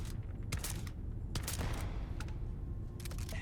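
Sustained gunfire in the space game Starfield, with rapid overlapping shots and bursts over a dense rumbling battle background, fairly loud and continuous.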